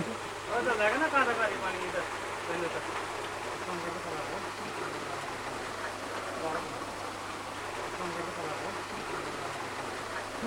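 Water rushes steadily through a gharat, a traditional water mill, as a continuous broadband wash with a brief louder surge near the start; voices talk faintly in the background.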